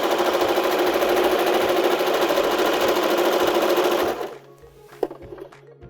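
A Baby Lock Zest sewing machine runs a continuous rapid stitching pass for about four seconds, loud and close, then stops abruptly, leaving a few faint clicks and handling noises.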